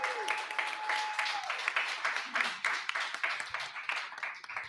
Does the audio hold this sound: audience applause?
yes